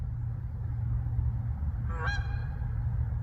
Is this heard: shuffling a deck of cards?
no